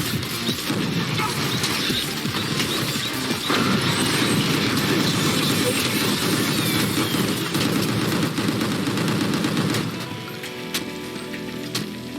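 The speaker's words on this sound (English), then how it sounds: "Who is shooting me?" Gunfire in Gungrave G.O.R.E inside a subway, a dense continuous barrage of rapid shots that stays loud for most of the stretch, then thins as the scene shifts.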